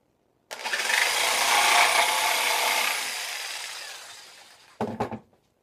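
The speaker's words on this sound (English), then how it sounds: "It makes a different kind of noise than the first saw we used, but I can cut on the wood with this now." A saw cuts through wood in a continuous rasping, rubbing stroke lasting a few seconds, loud and close, fading off, followed by a couple of short knocks at the end.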